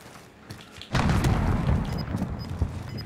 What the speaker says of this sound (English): explosions over here, Sally.